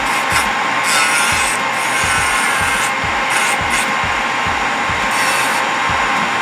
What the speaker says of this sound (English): I'm just gonna file and shape the nail so that it's a little bit of a smoother surface